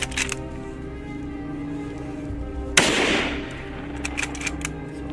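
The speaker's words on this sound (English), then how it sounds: "The sound of the gunshot echoes." A single hunter's gunshot fired at a charging wild boar in an open field, a sharp loud crack that rings out and trails off in a decaying echo over a low steady background.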